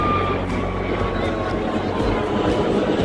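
An airplane rumbles low and steady near Juhu beach by the Mumbai airport, a loud broad roar that fills the whole stretch with outdoor beach noise around it.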